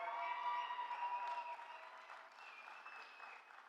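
An indoor audience applauds for a few seconds, a steady dense clapping at moderate distance that slowly tapers off.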